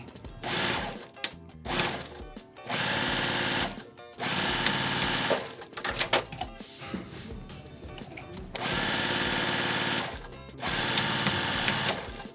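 A sewing machine runs back stitches on a box bag in loud, rapid bursts of a few seconds each. The bursts are separated by short quiet gaps and faint handling sounds.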